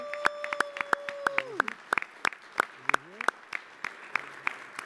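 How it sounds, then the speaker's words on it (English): Scattered clapping from a small group at a New York City Council meeting, made of loose, uneven hand claps over about five seconds in a quiet chamber, with a faint steady tone underneath. "I want to give a round of applause to Ben Smith for his service"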